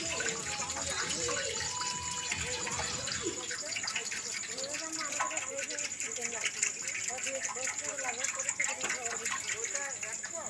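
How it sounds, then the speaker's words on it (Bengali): Plain water poured into hot oil in a pan while cooking beef fat with dal gushes and hisses continuously and closely, with a voice talking over it throughout. "এই দেখেন কাঁচা জাল দেওয়া হচ্ছে কাঁচা জাল দেওয়া হয়ে গেল"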